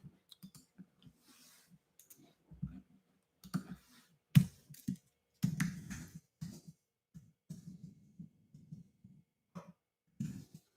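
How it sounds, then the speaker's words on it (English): Keys clacking on a computer keyboard during a live call, in irregular clusters of quick taps with short pauses, fairly close but soft against a quiet background. "I'm typing this up."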